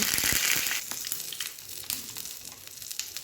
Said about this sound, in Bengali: এখন আমি সেটাতে কয়েকটা কারি পাতা দিয়ে দিয়েছি